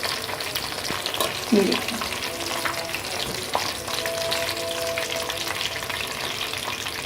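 Chicken roasts golden brown in a pan, giving a steady soft sizzle and frying crackle with a stirring clink, while someone talks briefly over it.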